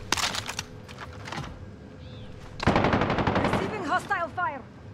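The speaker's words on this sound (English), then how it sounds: "Receiving hostile fire." Rapid automatic gunfire in the Call of Duty Warzone video game, loud repeated bursts of shots close by, with a gap in the middle before a heavier sustained volley and some game sound effects.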